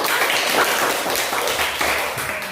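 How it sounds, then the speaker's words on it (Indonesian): Steady, dense applause from a classroom full of people for a student group, continuous and fairly loud throughout with no gaps. "Tepuk tangan untuk kelompok 1."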